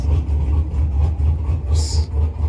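Dodge Charger SXT engine revving hard and loud, a deep continuous rumble that swells and dips over a couple of seconds, with no talk over it.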